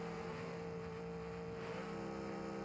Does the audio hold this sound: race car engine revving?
yes